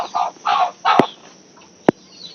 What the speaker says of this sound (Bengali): এই যে অনেক বড় একটা মোরগ।